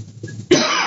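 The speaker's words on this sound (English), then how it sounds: "I need to cough" A single sharp cough bursts out after a short stretch of quiet low murmur, close and fairly loud, trailing off with breathy noise.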